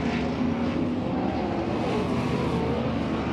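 Sprint cars on a dirt oval at Wayne County Speedway during a High Limit Sprint Series hot lap session, a loud continuous engine roar with a broad rush of noise and faint shifting engine tones.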